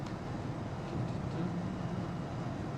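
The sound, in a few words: Challenger 300 jet engine from the video game X-Plane 11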